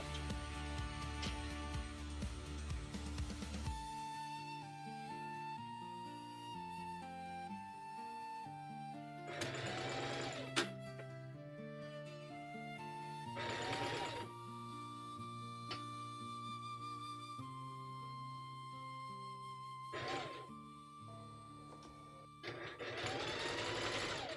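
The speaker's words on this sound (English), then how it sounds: "I'm gonna try sewing in this bit at the top of the handle too" A sewing machine stitches the handle of a yarn bowl, its motor whirring in steady runs with several short bursts of faster, louder stitching between quieter pauses, close up and with no voices.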